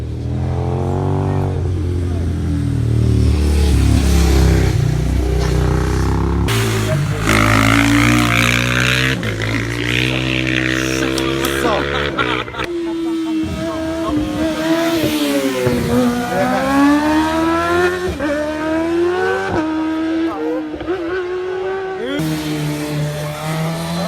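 A motorcycle at a hill climb race in Campile, 2018, revs loudly and continuously with rising and falling engine pitch as it moves off, sounding close and dominant throughout.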